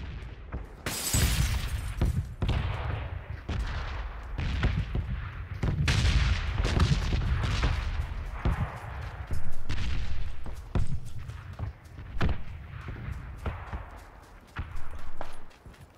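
Repeated gunfire in PUBG on the Miramar desert map: loud, close bursts and single shots recurring irregularly over a rumbling background, with dense volleys early on and scattered cracks later.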